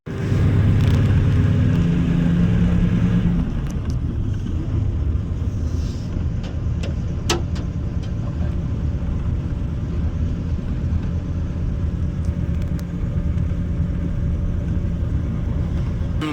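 Steady low rumble inside an AC sleeper bus travelling from Ratnagiri to Mumbai, a continuous engine and road drone with faint rattles and clicks, louder at first and then settling into an even hum.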